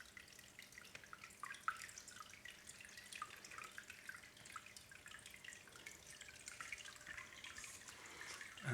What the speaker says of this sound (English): You see the water is flowing.